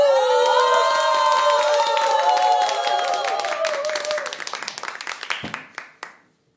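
An audience on a senior TV music show claps to welcome a trot singer to the stage, steady close clapping under a sustained musical tone that tapers into scattered claps near the end.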